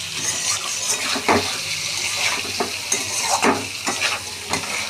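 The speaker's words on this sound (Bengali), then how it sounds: "সেদ্ধ করা আলু ভাজতে বেশি সময় যাবে না।" Boiled potatoes fry in a pan and are stirred, producing a continuous close sizzle broken by several sharp scraping strokes of the spatula, with no talking.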